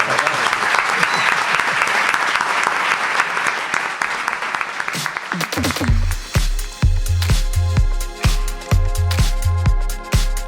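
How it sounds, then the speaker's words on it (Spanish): A studio audience claps and cheers loudly for several seconds, then the applause gives way to rhythmic music with a heavy beat. "Yo creo que me merezco un aplauso."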